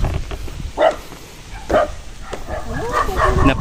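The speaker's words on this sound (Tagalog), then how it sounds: "Napakarami pong aso." Several dogs bark and yip at a spot with a bridge to cross, a few distinct barks spaced apart and then a busier stretch of overlapping yelps, with a person talking in between.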